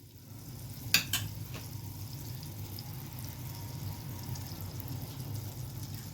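Garlic drops into melted butter in a soup pot, a brief clatter followed by a low, steady frying hiss that continues without any talking.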